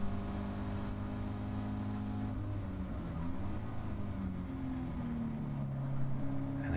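Caterham race car held at full throttle down a circuit straight, a sustained loud engine drone with tones that rise and shift slightly as speed builds, heard from inside the car.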